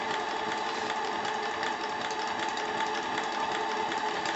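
A model steam engine with articulated paddle wheels runs at steady speed, giving a continuous dense hiss and rapid mechanical chatter. The sound stays even and fairly loud throughout, with no pauses or voices.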